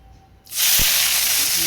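Chopped onions dropped into hot oil with whole spices set off a sudden loud hiss of sizzling that starts after a quiet moment and keeps roaring steadily, close up, with a brief clunk as they land.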